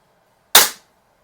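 A single sharp crack from a Beeman P17 air pistol being fired, close and alone, with a quick decay back to near silence.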